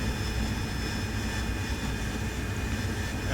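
An AV-8B Harrier jet in the DCS World flight simulator gives a steady, loud engine roar with a broad, unbroken hiss and rumble throughout.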